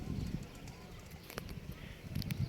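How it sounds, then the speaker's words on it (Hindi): Rooftop pigeons held in nets coo softly in short bursts, faint and close, with light rustling and shuffling around them and muffled background voices. "जालों में कबूतर डाल दिए हैं।"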